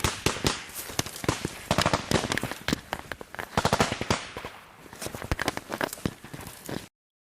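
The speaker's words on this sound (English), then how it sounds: "A couple of machine guns engaging in on the enemy" Rapid bursts of machine gun fire during a firefight with the Taliban, several guns engaging an enemy position in quick, loud rattling volleys with short gaps between them and no talk.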